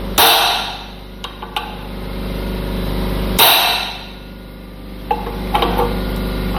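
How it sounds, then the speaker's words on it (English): A hammer struck hard against a second hammer during a repair on a car with a crunching sound over bumps: two loud, ringing metallic blows about three seconds apart, with a few lighter taps and knocks between and after. "if I put two hammers right here and I smack the one really nice, hard"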